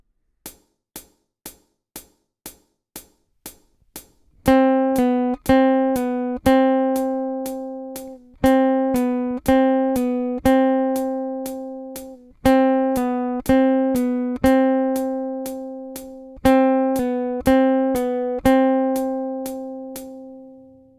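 Plucked guitar notes repeat in a steady pattern, first short muted picks, then ringing chords and single notes cycling through a practice phrase, alone and clear.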